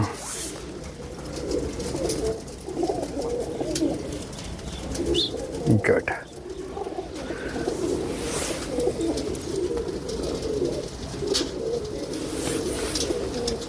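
Pigeons in a Punjabi loft coo in a steady low murmur throughout, with a few brief flutters and sharper sounds mid-way, while faint voices and background noise run underneath.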